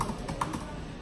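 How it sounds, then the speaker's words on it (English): Typing on a computer keyboard connected to an Apple Mac Pro, a few soft, closely spaced key taps over a low background hum. "so we know the keyboard is working because we can do that"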